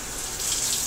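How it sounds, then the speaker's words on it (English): Water splashed onto the hot bottom of a PVC hand axe head, a steady broadband hiss and wash lasting under a second, fairly loud and continuous with no voices. "Hit the bottom with a little bit of water again."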